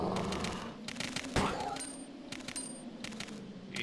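Gunfire in the video game Resident Evil 2, with sharp shots and bursts cutting through a steady game soundscape, fairly loud and spread across the clip.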